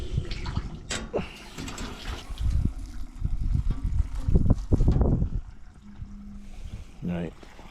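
Water runs and trickles from an old farm water trough, splashing in uneven bursts while people talk over it.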